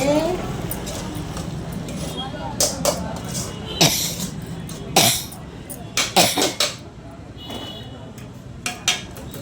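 A metal spoon stirs broad beans with mustard seeds in a pan, giving a series of sharp, irregular clinks and scrapes amid steady talking and occasional coughing.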